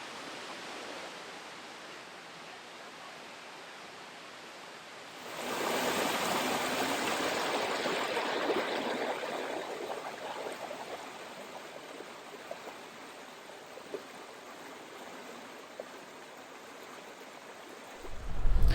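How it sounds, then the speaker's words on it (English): Water pours over a waterfall in a pine-scented forest in the Hocking Hills, a steady broadband rush that starts abruptly and then holds loud and constant near the listener. "We do have water coming over the falls."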